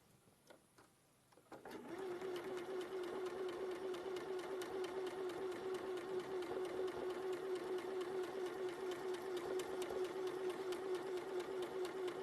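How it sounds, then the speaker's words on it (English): A domestic sewing machine starts after a quiet second and then stitches steadily, a loud, even mechanical whir with a fast rhythmic clatter that runs without a break to the end. "Very therapeutic or soporific watching someone else sew"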